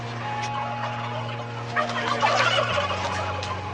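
Turkeys crowded by the thousands into filthy sheds gobble over and over, a dense chorus of overlapping calls above a steady low mechanical hum that drops in pitch partway through.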